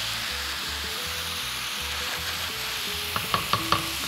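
Ground meat frying in a pan with bay leaf and thyme, a steady close sizzle under low background music, with a few sharp taps near the end.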